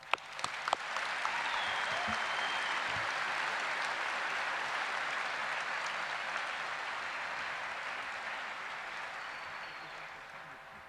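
Applause from a commencement crowd at the University of Dubuque, a sharp first clap or two, then sustained even clapping that fades slightly toward the end.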